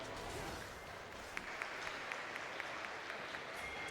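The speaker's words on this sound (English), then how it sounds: "give a round of applause for Latvians" Crowd applause for the Latvian team on a gaming expo stage, broad steady clapping with a few sharper claps standing out, continuing evenly throughout.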